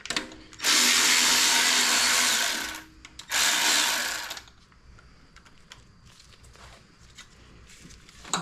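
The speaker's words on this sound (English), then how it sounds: "For today, we're going to unbolt it from the alternator since we're changing it." Power tool unbolting the wire harness from the alternator of a 2011 Toyota Camry 2.5L, two loud close whirring bursts followed by quieter clicks and small handling noises.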